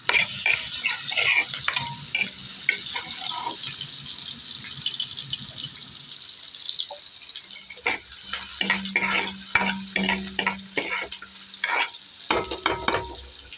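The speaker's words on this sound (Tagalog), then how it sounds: "Nagigisa ko na po yung atswete para lumabas ng kulay." Annatto seeds sauté in oil in a pan for pork kare kare, sizzling steadily while a utensil scrapes and stirs in bursts of sharp clatter, close and fairly loud.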